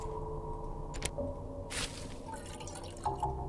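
Dripping and pouring liquid in a puzzle video game, a few soft drips and splashy pours set against a steady ambient hum, with no one talking.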